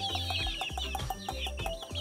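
Native and Rhode Island Red chickens clucking on a rural farm in the Philippines, repeated close, overlapping clucks in a steady rhythm on a cool, overcast morning.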